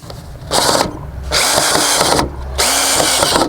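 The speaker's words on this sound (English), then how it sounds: "Drill it in place." A power drill driving screws into gutter boarding whirs in three bursts, pitch rising as it drives in, with short pauses between, loud and close.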